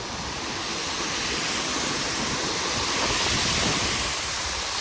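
The Amboli waterfall gives off a steady, dense roar of rushing water, loud and unbroken throughout with no voices.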